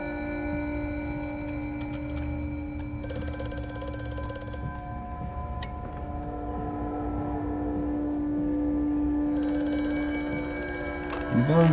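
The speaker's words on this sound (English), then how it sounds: "The phone's ringing." Old-style telephone bell ringing inside the horror game Amnesia: A Machine for Pigs, two clear bursts of rapid metallic ringing over a steady droning game score, moderately loud against the music.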